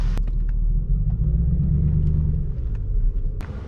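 Mercedes CLS500 engine giving a deep, steady low rumble while driving, loud and close from inside the car, with a few sharp clicks on top.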